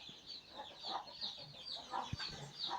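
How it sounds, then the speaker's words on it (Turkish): Soft, repeated clucking from chickens nearby, a steady low murmur of short calls with no talking. "Bak burada yine bir tane tavuğumuz yatıyor."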